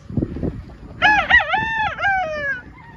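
A white sweater game rooster crows once, loud and close, its call wavering and trailing off, after some brief soft clucking and scuffling at a game farm.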